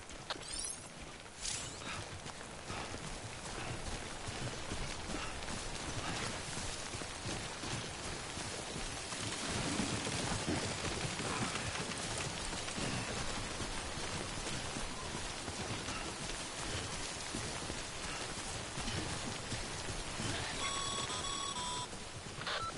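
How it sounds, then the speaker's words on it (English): Timefall rain pours down steadily in the video game Death Stranding, a dense, continuous hiss of drops on surfaces lasting throughout, with faint clattering and a few brief electronic tones near the end. "Don't stay out in the rain any longer than you have to."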